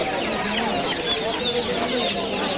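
Chickens cluck and chatter together at a bird and poultry market, amid a busy, noisy background, several birds calling at once without pause.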